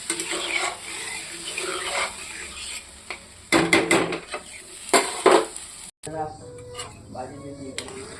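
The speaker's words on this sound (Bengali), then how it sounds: "এখন আমি এখানে অল্প জল দিয়ে দেবো।" Water poured into a cooking pan, splashing and clinking against the metal in uneven bursts with utensil knocks and stirring noises, close by, with a voice speaking at times.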